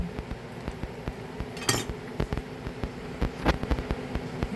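Knife clicking against a board while Vienna sausage is sliced for corned beef spaghetti, with a series of close, light taps and clinks and one brighter scrape near the middle.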